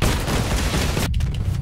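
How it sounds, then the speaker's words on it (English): Heavy fat boy cannon fire in the vehicle combat game Crossout, a dense continuous roar of booming shots and rumble that cuts off abruptly near the end, loud and close. "we're going to take some heavy fire from them fat boy cannons"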